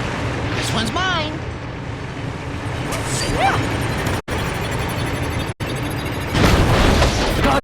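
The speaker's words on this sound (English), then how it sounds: "The explosion shut off the thinner curtain." Explosion in the video game Disney Epic Mickey 2, with booming bursts and rumbling blasts layered under game voices and effects, loud and close, with a heavier burst near the end.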